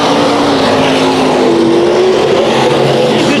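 A brand new hobby stock race car engine at Bakersfield Speedway drones loud and steady with other cars on the dirt oval, its pitch rising and falling through continuous engine roar with no pauses.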